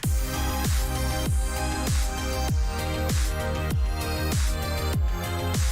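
A song's drum beat of kick, snare and hi-hats repeats steadily, about two hits per second, with booming low kicks and crisp hi-hats layered over a dense mix.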